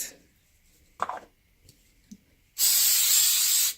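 A few soft taps and rustles, then a loud, sustained hissing spray of cooking oil onto Cornish hens lasting about a second, close by.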